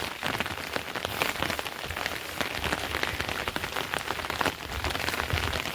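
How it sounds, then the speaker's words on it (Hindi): Steady pre-monsoon rain on the Rudranath trek in the Himalayas patters densely on surfaces all around, a continuous close hiss of drops with no voices. "आज पूरी बारिश हो रही है, चारों तरफ घने बादल और रात भर बारिश हुई है"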